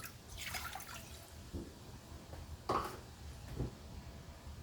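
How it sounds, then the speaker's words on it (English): One cup of water goes into a pot on a medium burner for homemade chocolate syrup, heard as soft, intermittent splashes and drips, fairly faint and close, with no voices. "We're going to add our 1 cup of water"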